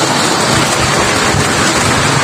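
Heavy, steady rain from a typhoon pours down in a continuous dense hiss with low rumbling wind, loud and unbroken throughout, no voices.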